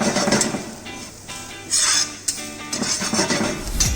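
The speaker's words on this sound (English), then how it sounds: "Just lightly roast the masala." Coriander, amchur and turmeric powders are lightly roasted in a pan, heard as close metallic scraping and clinking of a utensil against the pan, in uneven strokes with a soft sizzling hiss.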